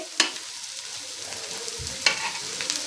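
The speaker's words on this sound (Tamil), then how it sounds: "இப்போ கேரட்டை போட்டு இப்போ கிண்டி விட்டுக்கலாம்." Fried paneer with onion and carrot stirred in a pan, a soft continuous fry sizzle broken by two sharp spatula taps against the pan.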